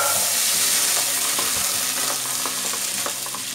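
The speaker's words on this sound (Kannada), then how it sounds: "ಬೆಣ್ಣೆ ಸ್ವಲ್ಪ ಕರಗಿದ್ಮೇಲೆ ನಾವು ಈ ಸ್ಪೈಸಸ್ ಎಲ್ಲ ಹಾಕ್ಕೊಂಡು ಬಿಡೋಣ. ಎಲ್ಲ ಸ್ವಲ್ಪ ಫ್ರೈ ಆದಮೇಲೆ" Whole spices frying in melted butter in a pan for a potato and green pea curry, a steady broad sizzle filling the scene with scattered ticks and scrapes of stirring, close and fairly loud throughout.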